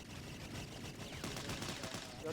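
Rapid gunfire bursts from a Thai-language online shooter game, with dense repeated shots running throughout under a busy game soundscape, with players talking over it.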